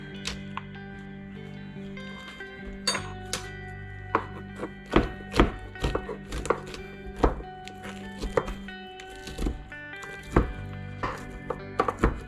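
Knife chopping through frozen pre-cooked bacon on a cutting board, a series of irregular firm thunks and taps with a low hum behind, no talking.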